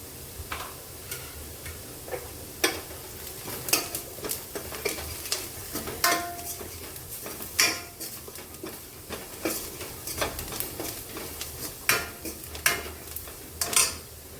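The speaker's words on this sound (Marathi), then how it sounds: "इथे कांदे परतून झाले, आता मी त्यात लाल तिखट घालते आणि हळद थोडीशीच घालते" Sautéed onions with red chili powder and turmeric are stirred in a pan, with repeated sharp scrapes and clinks of a spoon against metal over a quiet, low sizzle.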